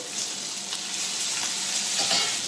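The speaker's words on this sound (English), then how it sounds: "I'm going to add it straight into my pan" Cooked spaghetti hitting a hot pan for carbonara gives a steady, close sizzle and soft frying hiss, with faint stirring crackles running through the short burst and no talking.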